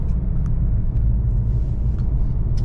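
Deep, steady rumble from a 2009 Dodge Charger SRT8 fitted with an aftermarket exhaust, held at high RPM and heard close and continuous, with no talk.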